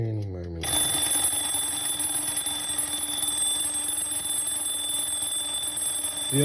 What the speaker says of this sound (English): I'm now going to forward the hands round and clockwise direction is looking at it until the alarm goes off.